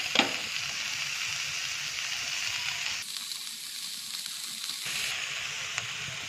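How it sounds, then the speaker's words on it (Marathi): Paneer pieces frying in a pan, a close steady sizzle that drops and swells as the pieces are turned, with no one talking. "आता 1-2 सेकंद अजून आपण खालच्या साईडने पण पनीर भाजून घेणार आहोत।"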